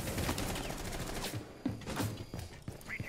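Gunfire in Rainbow Six Siege: rapid bursts and single sharp shots crack close up in fast, uneven succession, with loud game action throughout.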